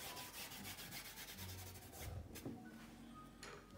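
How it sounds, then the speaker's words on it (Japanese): Gauze pressed and rubbed across a 4B pencil drawing of a sphere on paper, giving a soft, continuous close scuffing that runs steadily throughout with no talking. "この辺りでまたガーゼで押さえてみます。"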